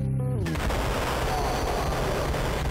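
Rapid gunfire from Max Payne on the Game Boy Advance, a dense, loud burst of repeated retro-style shots continuing steadily after a short electronic tone at the start.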